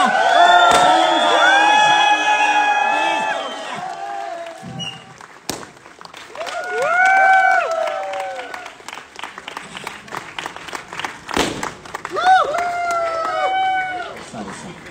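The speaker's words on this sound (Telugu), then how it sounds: "అలాంటి వ్యక్తిని మీ అందరి క్లాప్స్ తో కీకలతో ఇన్వైట్ చేస్తున్నా." Applause and cheering from an audience welcoming a guest, with clapping and whoops near the start and again toward the end, separated by stretches of enthusiastic shouted and sung voices from the crowd.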